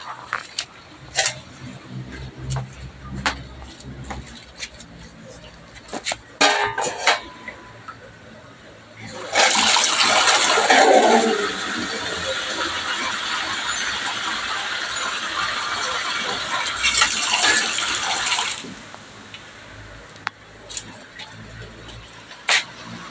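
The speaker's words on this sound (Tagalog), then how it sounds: "lalagyan ko siya ng konting tubig" Water is poured into sautéed cabbage in a hot pan, setting off a loud hissing sizzle that lasts about nine seconds in the middle. Before it come scattered kitchen clatter and a person talking.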